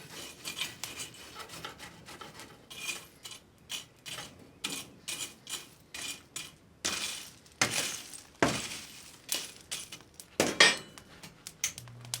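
Steel bar being forge welded by a blacksmith, a run of sharp metallic hammer blows in an uneven rhythm, close and fairly loud, with short pauses between strikes.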